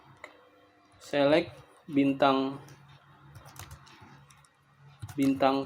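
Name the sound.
typing a MySQL query on a computer keyboard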